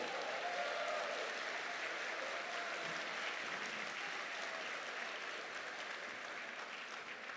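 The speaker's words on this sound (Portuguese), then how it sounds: "uma salva de palmas para vocês" Sustained applause from a large audience at a motivational seminar, dense and steady throughout with no talk over it.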